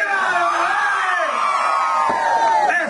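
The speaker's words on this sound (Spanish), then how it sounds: "Quiero escuchar un grito de todas las mujeres." Women in a festive crowd at a Mother's Day celebration in San Alejo, El Salvador, shout and cheer together, a loud sustained wash of voices with whoops rising over it throughout.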